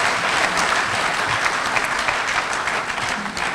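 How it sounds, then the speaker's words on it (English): A workshop audience at a local government orientation program claps steadily and loudly throughout, a dense wash of many hands with no pauses. "A clap for yourselves."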